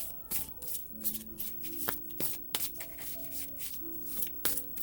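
Crisp riffling and slapping of cards being shuffled close by, in a quick irregular rhythm of rustles and snaps.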